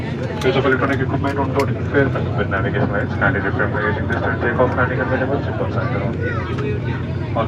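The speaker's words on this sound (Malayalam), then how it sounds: "അങ്ങനെ ഫ്ലൈറ്റ് റൺവേയിൽ എത്തി" Steady jet engine roar of an airplane rolling along the runway at Kochi, a continuous loud hum with voices talking over it.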